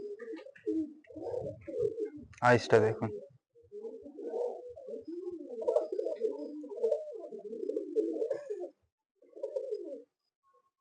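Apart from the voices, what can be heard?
pigeon cooing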